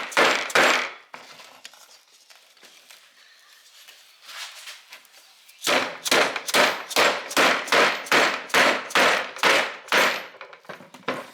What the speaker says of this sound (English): you need either a sand mallet or a rubber mallet of some description